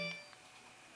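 A Sharp YO-190 personal organizer gives a short electronic key beep, a thin high tone at the very start that cuts off and leaves near silence.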